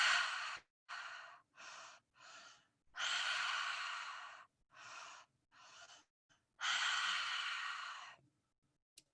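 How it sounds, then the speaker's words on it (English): Breathwork exercise: a person takes two quick breaths in, then exhales through the mouth, repeated three times in a steady rhythm, each long breathy exhale following two short inhales, close and clear with no talking. "Okay, so we're gonna breathe in 2 breaths and then out through the mouth."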